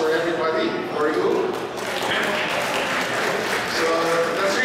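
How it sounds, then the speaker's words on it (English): Applause from a school class reunion audience, clapping spread across the room with voices talking over and around it, fairly close and steady throughout. "That should be a round of applause for everybody, for you."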